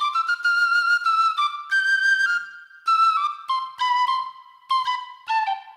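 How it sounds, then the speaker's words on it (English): A penny whistle melody loops on its own in an AudioKit L7 live looper on iPad, bright, clean phrases of short and held notes playing alone with no voices. "so we can solo this penny whistle thing"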